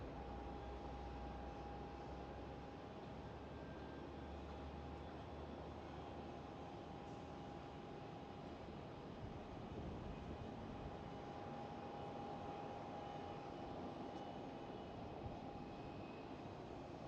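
A Lufthansa Airbus A319 airliner at Amsterdam Schiphol airport gives off a steady, distant jet engine roar with a faint constant whine, holding level throughout with no voices.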